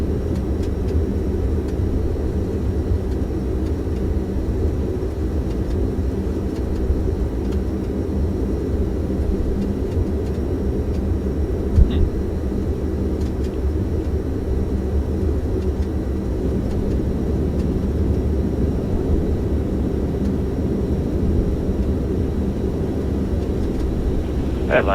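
In a flight simulator, a Majestic Dash 8 Q400 airliner holds a steady, loud turboprop engine roar and low rumble through its takeoff run at Atlanta. The sound is unbroken, with only faint clicks, and there is no talking.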